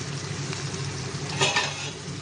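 Masala paneer stirred and mixed in a hot pan, a continuous sizzling fry with scraping spoon strokes against the metal, loudest in a brief burst of stirring near the middle.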